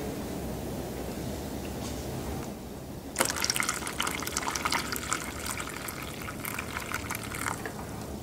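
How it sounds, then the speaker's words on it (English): Water poured out of a container, a steady rushing gush that grows brighter and louder partway through, close and continuous with no voices. "We have to empty the water."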